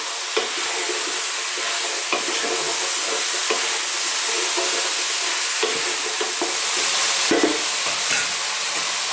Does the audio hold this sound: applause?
no